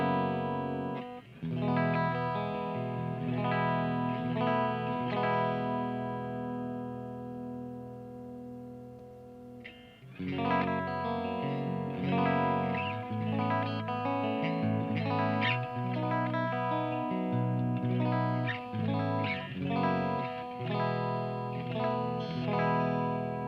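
An electric guitar plays through the clean channel of a Mezzabarba Trinity amplifier with no effects, sustained chords and picked notes ringing for about twenty seconds. A short pause falls near the middle, then livelier strummed phrases follow, loud and alone without talk.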